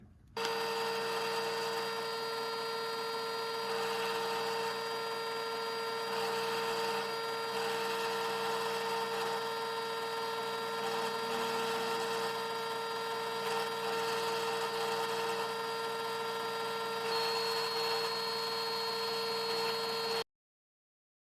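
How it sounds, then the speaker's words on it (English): A drill running steadily for about twenty seconds while its bit is held down in a hole in a guitar fretboard being drilled for inlays, with a constant whine and no talk. "So I've stuck the drill bit back in the hole and I'm holding it down."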